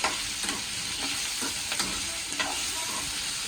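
Garlic, onion and curry leaves sautéing in a pan for vatha kuzhambu, a continuous close sizzle broken by repeated spatula stirs, without any talking.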